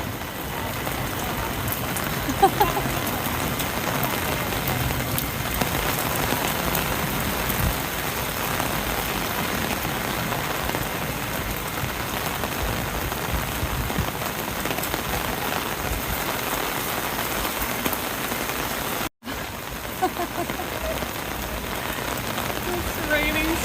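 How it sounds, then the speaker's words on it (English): Heavy rain pours down in Tokyo, a loud, constant hiss of drops striking surfaces that runs unbroken throughout, with a brief dropout near the end. "It's raining so hard."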